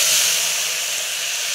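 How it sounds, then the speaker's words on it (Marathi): Curry leaves hit hot oil in a home kitchen pan, giving a loud, close, steady hiss and sizzle that fades slightly over a second and a half. "इथं कढीपत्ता आणि तेल तापले आता छान."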